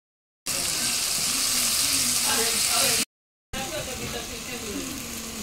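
Spice masala of tomato, salt, turmeric and chili powder frying in a pan for an okra dish, a steady close sizzle with stirring scrapes, briefly cut off, then resuming slightly quieter.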